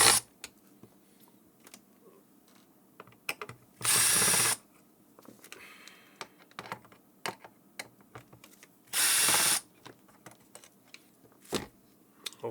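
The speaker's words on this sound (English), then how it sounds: "You need a Phillips screwdriver. So there is only 4 screws." A Phillips screwdriver removes the four screws from an HME Wireless IQ XCVR headset. Two loud whirring bursts of about half a second each are separated by scattered light clicks and handling taps, with no talking.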